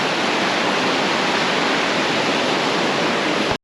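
Loud, continuous rushing water roars steadily near a flume in the New Hampshire and Vermont mountains, with no pauses or voices, cutting off abruptly at the end.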